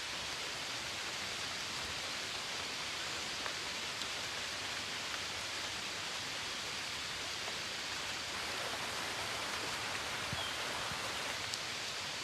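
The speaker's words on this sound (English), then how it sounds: "blessed by the rain." Steady rain falling outdoors during a yoga session, a soft even hiss of drops on surfaces, continuous and faint with no talking.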